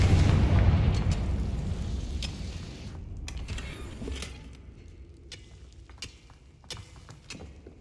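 A Confringo fire-blast spell cast in the video game Hogwarts Legacy bursts with a loud, dense boom up front, then trails off into a fading rumble punctuated by a few sharp crackles.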